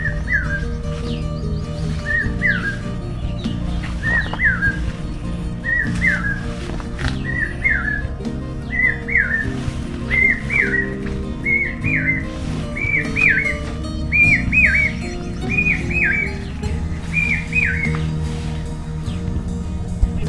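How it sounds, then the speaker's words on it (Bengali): A common hawk cuckoo calls over and over from nearby trees in a Bangladeshi agro park, its shrill rising whistled phrases repeating steadily about every second and climbing in pitch, over a constant low background hum. "চোখ গেল কোকিলের ডাক শুনতে পাচ্ছেন।"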